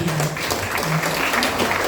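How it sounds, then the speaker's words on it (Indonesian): Applause for a school principal at a high school student council debate, a brief wash of clapping from the gathered students, steady and fairly close. "Kita tepuk tangan buat Bapak Nim dulu."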